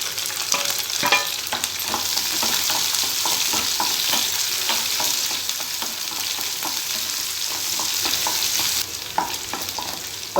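Shallots and a sprig of curry leaves frying in oil in a pan, a continuous sizzle with frequent ladle scrapes and stirring clatter, close and steady, with no talk over it.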